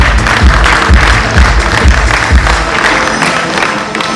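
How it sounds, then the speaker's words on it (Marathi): Loud, sustained applause rolls through the audience at a film award ceremony honouring independent films in Mumbai, with dense clapping that pulses and then slowly tapers off. "जोरदार टाळ्यांचा गजर होते"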